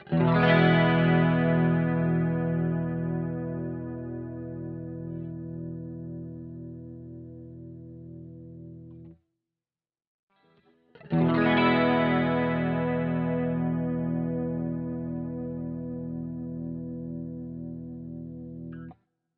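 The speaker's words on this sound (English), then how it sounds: "let's just strum a chord and let it ring without the compressor" Electric guitar chord strummed through a Boss GT-1 multi-effects unit, ringing out and decaying for about nine seconds, then a short silence before a second strummed chord rings with the compressor on, holding its level longer.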